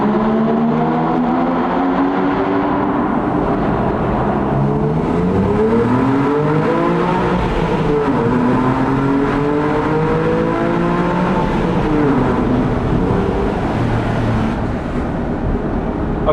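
A Porsche 997.2 Carrera engine heard from on board while driving a mountain pass in third gear, a continuous throaty drone with rising and falling pitch as the revs swell and ease, loud and steady with no talking.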